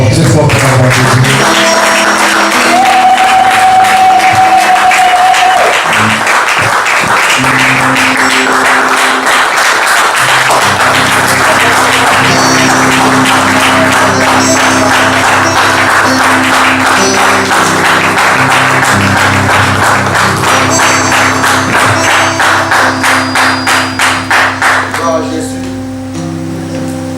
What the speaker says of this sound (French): nous allons applaudir pour notre Dieu